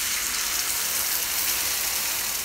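Water is poured into a frying pan of potatoes with sweet soy sauce and oyster sauce, producing a dense, steady splashing hiss that stays loud and even throughout, with no voices.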